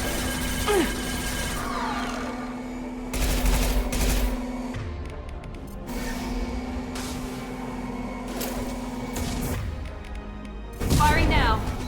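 Rapid bursts of gunfire from the sci-fi shooter game Mass Effect 2, with loud volleys that start and stop over a steady low hum, several sustained stretches of shooting and a heavier blast near the end.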